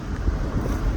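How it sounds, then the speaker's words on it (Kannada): Steady wind buffeting outdoors near a temple, a constant low rumble of gusts against the microphone throughout. "ಎಡ್ಡೆ ಗಾಳಿ ಉಂಟು"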